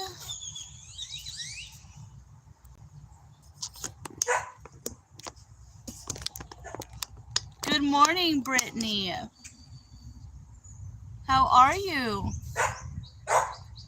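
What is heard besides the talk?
dogs barking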